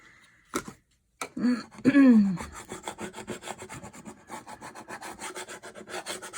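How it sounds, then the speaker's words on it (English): Close rubbing and scraping strokes as a tool presses Cricut black vinyl down onto glass, a quick series of short rasping passes after a few brief knocks. "Make sure you scrape it down."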